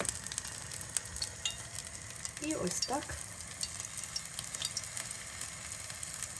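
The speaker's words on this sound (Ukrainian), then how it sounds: "викладаю на розігріту ж сковорідку, шкварчить уже" Hot oil sizzles and crackles steadily as belyashi dough hits a preheated pan, frying over medium heat, with a brief louder burst in the middle and a few quiet words spoken.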